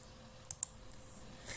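Two quick, sharp computer mouse clicks while working in CorelDRAW, close and crisp, about a tenth of a second apart, against quiet room hum.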